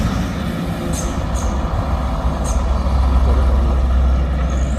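A loaded truck straining up a hill, its engine giving a loud, sustained low rumble that swells slightly toward the end, with a few brief high squeals above the drone.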